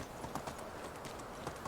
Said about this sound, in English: I'm going to ride back on Miss Donkey